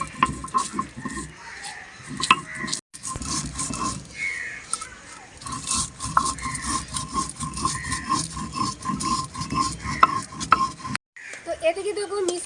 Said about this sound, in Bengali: এদিকে ভাজা মশলাগুলো গুঁড়ো করে নেবো।